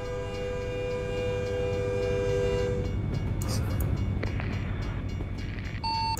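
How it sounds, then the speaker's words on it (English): A train rolling past in American Truck Simulator, its multi-tone horn sounding steadily for about three seconds before the rumbling wagons continue alone, followed by a short horn blip near the end. "I hear your horn, I hear the train."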